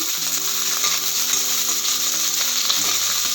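Hot oil sizzles and crackles steadily as curry leaves, garlic and Byadgi chillies fry in a pan for a sambar tempering, a continuous bright hiss with faint mechanical tones underneath and no talking.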